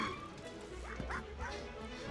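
A dog in the PlayStation game Heart of Darkness gives a couple of short, soft yips and whimpering barks at low level over a steady game soundtrack.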